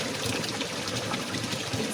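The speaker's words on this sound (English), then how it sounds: "can you hear the sound of the water?" River water in rural Kenya flowing and splashing steadily while clothes are washed by hand, a dense, even rush close by with no voices.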